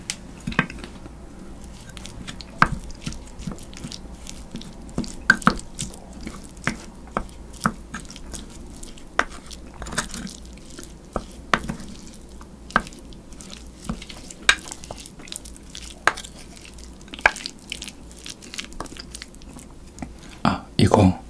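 Close-miked crunchy bites and wet chewing of spicy marinated crab (yangnyeom-gejang) with the shells eaten too, with sharp cracks scattered irregularly throughout over a quiet background.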